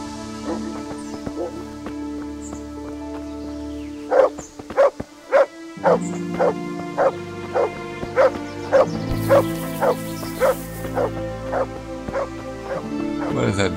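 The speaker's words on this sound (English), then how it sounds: "What is that dog yelling about?" Dog in Kingdom Come: Deliverance barking in a rapid run of about a dozen sharp, evenly spaced yaps over steady game ambience and music, fairly close and prominent.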